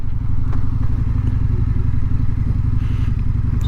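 A 2025 Indian Scout Sixty bobber motorcycle rumbles steadily along a road at sunset, its loud low engine pulsing throughout with faint clatter and wind noise over the top.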